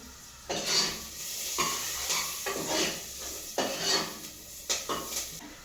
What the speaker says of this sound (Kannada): ಈರುಳ್ಳಿ ಒಂದು ಸ್ವಲ್ಪ ಫ್ರೈ ಆಗಬೇಕು ಹಸಿ ವಾಸನೆ ಎಲ್ಲ ಹೋಗೋ ತನಕನು ಫ್ರೈ ಮಾಡ್ಕೊಬೇಕು